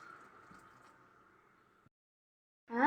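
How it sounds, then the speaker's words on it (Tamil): Thin coconut milk poured into a pot of coconut porridge on the stove, a steady soft liquid pour running close for about two seconds, then silence, then a brief louder clatter at the end. "ஃபஸ்ட்டு தண்ணிப்பாலை சேர்த்துக்கிடுவோம்"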